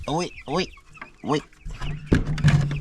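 Backyard chickens cluck in their outdoor enclosure, a few short close calls in quick succession, followed by rustling and scuffling noises nearby.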